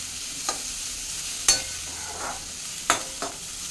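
Garlic and ivy gourd fry in a pan with a steady, moderate sizzle, punctuated by four sharp scrapes and taps of a stirring spoon at irregular intervals.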